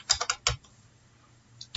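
Keys clack on a computer keyboard while a formula is typed: a quick burst of several keystrokes, a pause, then another press, close and clear.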